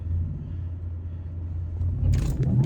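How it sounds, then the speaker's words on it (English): A 2023 Porsche Taycan electric car in Sport Plus gives a low, steady synthetic drone heard from inside the cabin, which swells as it launches hard near the end with a few brief clicks and knocks. "I'm gonna do a quick launch real quick and see what that looks like."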